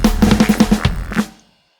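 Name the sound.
neuro drum and bass loop with drums, FL Studio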